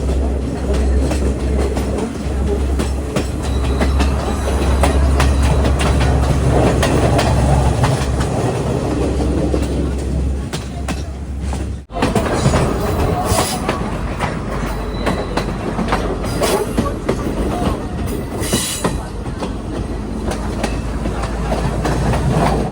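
The Podi Menike Express rolls along Sri Lanka's main line, its wheels clattering in a steady rhythm with a loud rumbling roar heard from inside the carriage, shifting briefly midway as the train passes over a different stretch of track.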